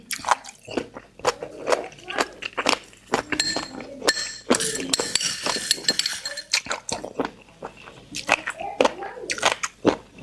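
Crunchy angel-wing jellyfish, dipped in seafood chili sauce, bitten and chewed up close in a run of sharp, crisp crunches, with someone talking between bites.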